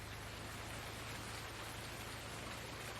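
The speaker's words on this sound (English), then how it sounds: "Oh, it's raining." Steady, even rain hissing on surfaces in Farming Simulator 19 on a Washoe, Nevada map, constant and fairly quiet throughout, with a low hum beneath it.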